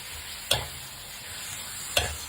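Minced pork stir-frying in a pan, a steady sizzle broken by two sharp scraping stirs about a second and a half apart, close and fairly quiet with no talk.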